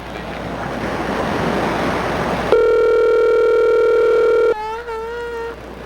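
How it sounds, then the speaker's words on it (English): A telephone rings down a call line: after a couple of seconds of breezy hiss, a steady electronic ring tone holds for about two seconds, then gives way to a wavering, warbling tone, with no talking. "listen to the phone ring too"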